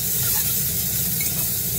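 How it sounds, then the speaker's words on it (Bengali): Onions frying in a small amount of oil in a pan while a shortcut chicken dish is cooked, giving a steady soft sizzle with faint stirring, close and continuous throughout. "কষানোর জন্য আগে পেঁয়াজটা একটু ভাজা ভাজা করে নিই"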